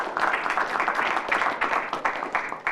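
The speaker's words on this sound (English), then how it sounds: "Can we give another round of applause to the work of our Vicsport Youth Advisory Committee?" An audience at a youth sport participation forum gives a round of applause, lively overlapping clapping that stays fairly loud and close throughout.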